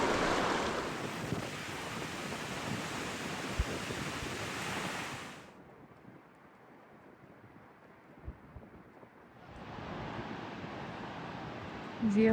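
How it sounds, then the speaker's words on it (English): Cold wind blows at 42 degrees near a mountain hut and pond, gusting as a broad rushing noise, easing into a quieter lull, then surging back strongly. "It is 42 degrees with a cold wind blowing."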